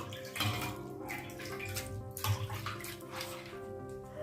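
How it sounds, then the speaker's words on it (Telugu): Water poured into a container of soaked urad dal splashes and gurgles in two brief surges, with a softer trickling flow between them. "కొంచెము నీళ్ళు వేస్తానండి"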